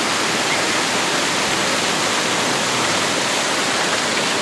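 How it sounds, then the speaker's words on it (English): A steady, loud rush of falling water, continuous and even, like a small waterfall splashing into a koi pond close by, at the ABQ BioPark Botanic Garden in Albuquerque, New Mexico. "There's the waterfall! I was gonna say, I knew I heard a waterfall"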